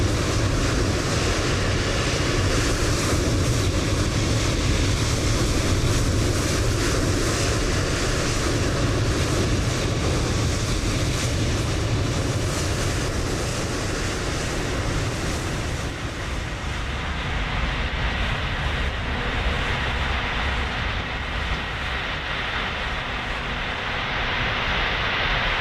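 A British Airways airliner taxis past in Microsoft Flight Simulator 2020, a steady loud engine roar and broadband rumble holding for the whole stretch and easing slightly toward the end, with no talk over it.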